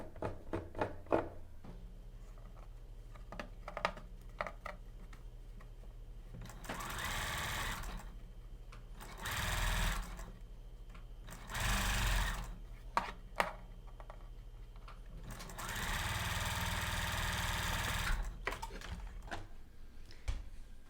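A sewing machine stitches a sleeve bias band in close, steady bursts of rapid needle chatter, stopping and starting several times with short quiet pauses between runs.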